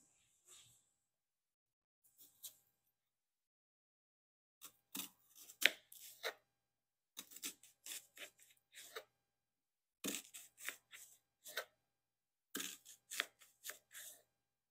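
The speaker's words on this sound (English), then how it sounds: "after slicing the onion into thin slices" A knife slices half an onion into thin strips on a cutting board, giving quiet, crisp chopping taps in quick bursts separated by short pauses, close by but faint.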